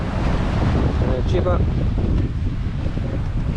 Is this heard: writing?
no